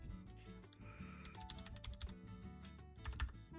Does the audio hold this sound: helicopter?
no